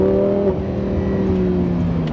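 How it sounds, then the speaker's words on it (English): A Lamborghini Huracan in Corsa mode revs hard, its engine note holding a steady droning pitch with a brief shift near the start, loud and close with no talk. "Every gear change, Corsa mode, it wakes it up to add that drama that I want in a Lamborghini."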